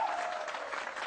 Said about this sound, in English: please give a round of applause for yourselves